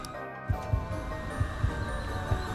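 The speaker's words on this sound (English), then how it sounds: "I hear heartbeats." A heartbeat sound effect in Persona 5 Strikers, a steady series of low double thumps repeating about every half second over a humming game soundtrack, with no one talking.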